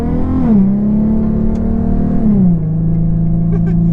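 A Vortech-supercharged 2012 Infiniti with a 6-speed manual pulls steadily under light throttle, its engine drone rising and settling with a drop in pitch partway through, close and continuous.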